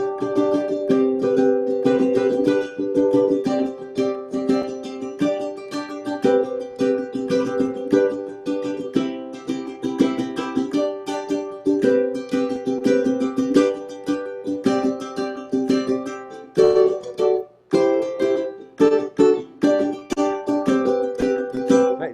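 Strummed chords with deliberately uneven, poorly grooving timing: steady loud strokes that stumble and break into choppy, irregular hits near the end, close and alone without talk.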